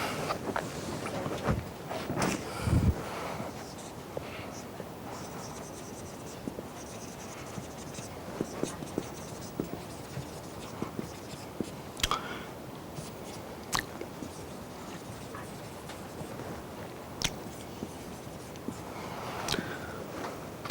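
Chalk or marker writing on a board in a physics class, a run of soft scratchy strokes and taps with brief pauses, close and moderately quiet against a faint room hiss.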